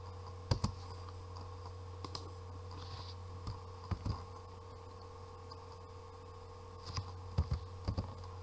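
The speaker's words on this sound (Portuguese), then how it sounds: "Eu fiz esse clique, não sei se vocês devem ter observado, porque eu digitei errado" Scattered sharp clicks from a computer mouse and keyboard sound close and faint against a steady electrical hum, arriving irregularly in small clusters.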